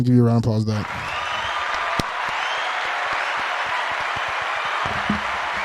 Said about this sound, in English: I'm gonna give you a round of applause for that.